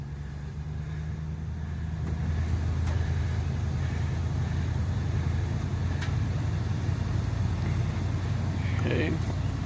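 A Dodge Ram pickup truck stuck in mud idles with a low, steady engine rumble that swells slightly as gas is gently applied, alongside background talk.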